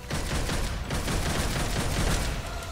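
Pistols firing in the game Devil May Cry 5, a dense, continuous burst of rapid gunfire that keeps going, loud and close, with barely any pause.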